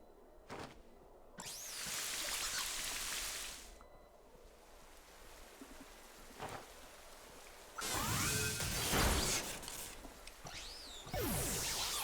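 Rain weather effect in a Pokémon battle game, a hissing wash of synthetic rainfall that swells in bursts between quieter gaps, with brighter sweeping tones layered over some of them.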